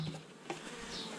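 Honeybees leaving a hive box give off a steady close buzz with a short louder swell partway through, heard alone without any voices.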